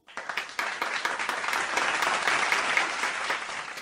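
A studio audience at a talk show breaks into applause, dense steady clapping that starts sharply and holds at a fairly loud level throughout.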